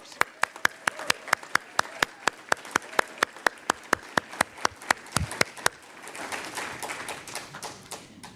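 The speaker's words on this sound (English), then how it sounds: "So let's give a round of applause to the search committee members." Applause from a church congregation at a Unitarian Universalist Sunday service, opening with loud, sharp, evenly spaced claps close by, then blending into a softer, denser patter of many hands for the last few seconds.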